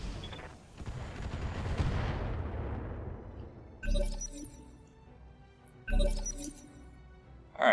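Mech weapons fire indirectly in the BattleTech video game: a long rumbling launch that trails off, followed by two sharp, crackling impacts a couple of seconds apart, with one more starting at the end.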